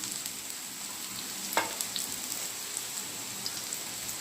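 Raw banana slices fry steadily in a pan, a continuous soft crackling sizzle with scattered pops and one sharper crack near the middle, no talking.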